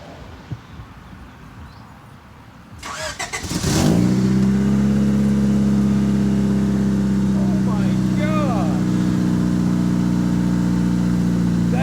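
A Honda Accord CB7 engine with a full aftermarket exhaust starts up and settles into a deep, steady rumbling idle with a throaty low tone, loud and close, with brief voices in the background.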